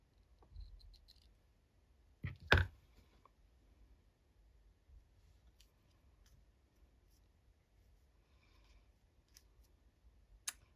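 Scissors snip a small piece off a card in a quiet room: a couple of close, crisp cuts clustered together, with faint clicks and handling sounds around them.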